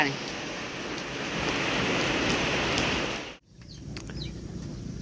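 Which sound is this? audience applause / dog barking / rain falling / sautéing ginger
rain falling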